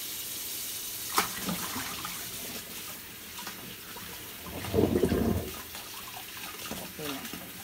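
Water runs and splashes while paragis grass is washed by hand, a steady wash with a louder sloshing burst midway and faint background voices.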